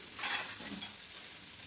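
A soft, steady sizzle of food frying in butter in a pan, with a brief scrape of stirring near the start; no voices.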